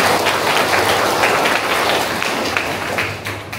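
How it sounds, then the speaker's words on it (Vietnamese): A church congregation at a wedding Mass clapping together, a sustained round of applause that stays strong and gradually eases toward the end. "Xin anh chị em hãy dành một tràng vỗ tay"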